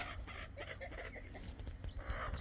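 Backyard garden chickens clucking nearby in a short run of busy, overlapping clucks and calls against outdoor background noise.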